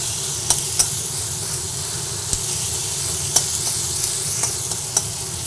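Boiled potatoes tumble into hot oil with frying spices for a vegetarian dish, giving a steady close sizzle and hiss with a few sharp clicks of stirring or the pan.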